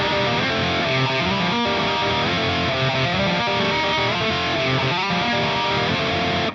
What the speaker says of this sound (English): So I put together these two harmonised hybrid picking sections, which when combined just sound mad.